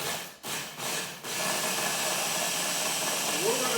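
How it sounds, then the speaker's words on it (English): A food processor blends brown sugar seasoning, whirring steadily at close range, a continuous grinding hum after a few brief stutters at the start. "We're going to blend that up really good."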